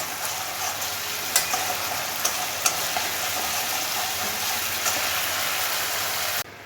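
Bengali egg curry sizzles in oil in a pan after water is added, a steady close frying hiss with scattered scraping clicks from a utensil stirring, ending with a brief drop in sound.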